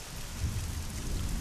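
Thunderstorm with steady heavy rain pattering on leaves and ground, a low rumble of thunder rolling underneath, continuous and close.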